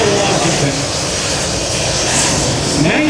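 A US Navy Hornet jet flies overhead at the 2009 AirPower Over Hampton Roads air show, a loud, steady broadband engine roar filling the whole moment, with a public-address voice partly audible beneath it.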